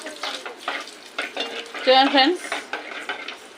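Black peppercorns and cumin seeds frying in a pan, with quick scraping and clinking stirs close by and a voice talking briefly over them.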